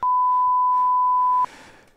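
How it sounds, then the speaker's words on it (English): A loud, steady electronic beep holds a single tone for about a second and a half, then cuts off, leaving faint background noise. "The deafening beep in my ears"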